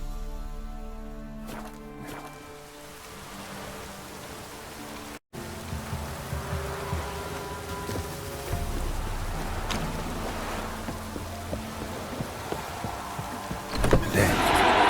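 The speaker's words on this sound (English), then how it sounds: "Looks like rain." Rain falls in a stormy outdoor scene of The Witcher 3: Wild Hunt, a steady hissing wash beneath a low musical drone, building louder toward the end with a sharper burst near the close.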